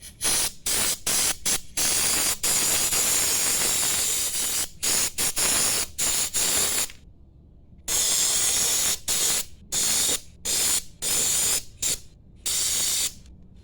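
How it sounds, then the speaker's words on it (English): Brake cleaner sprays onto Kawasaki Ninja motorcycle parts in loud, close hissing bursts of varied length, split by short gaps and a few longer pauses, with no talk. "I got some brake clean here, that way I can go ahead and clean these parts up."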